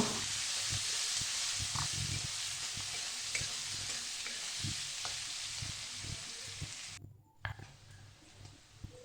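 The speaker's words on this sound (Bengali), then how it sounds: "এবার পেঁয়াজটাকে খুব ভালো করে ভাজা করে নেব" Chopped onions fry in a pan of oil tempered with bay leaves and whole cumin, for a jackfruit curry with fish head. A steady close sizzle runs throughout with scattered scraping stirs, and it eases off near the end.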